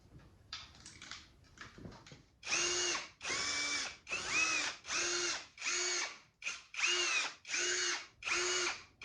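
A power tool spins out 10mm bolts from the front cover of an LS engine, sounding as a run of about eight loud, evenly spaced whirring bursts after some quieter handling clatter, close and without talk.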